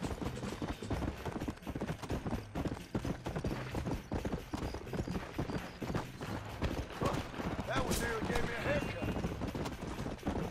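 Horse hooves galloping in the Red Dead Redemption video game, a steady rapid clip-clop running throughout alongside game music and ambience, with a burst of sharper activity near the end.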